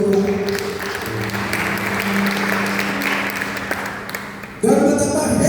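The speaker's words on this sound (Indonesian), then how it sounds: "berikan tepuk tangan buat Tuhan" A church congregation at an Easter service claps for God, a dense sustained applause that swells toward the end, with a faint voice beneath the clapping.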